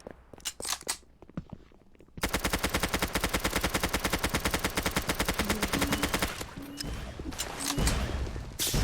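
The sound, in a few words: gunfire in a video game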